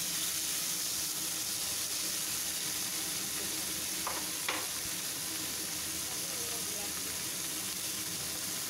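Tomatoes frying with ginger, garlic and onion for bhindi masala, a loud continuous sizzle close by with a couple of brief utensil knocks while being stirred.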